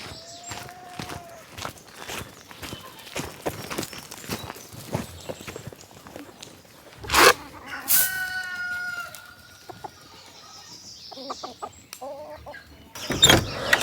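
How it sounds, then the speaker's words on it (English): Meat bird chickens cluck and a rooster crows nearby, with scattered footsteps and scuffling between calls, sharp loud bursts standing out against a quiet background. "The meat birds are all still doing really good."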